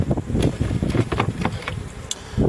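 Honey bees hum steadily at a beehive during a spring apiary inspection, a close, continuous low buzz with occasional louder passes of single bees near the microphone.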